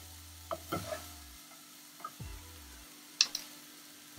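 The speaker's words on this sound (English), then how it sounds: "We don't have to cook them, we just need to saute them." Vegetables are stirred in a pan, giving a faint, scattered run of scraping and clinking strokes over a quiet, low sizzle.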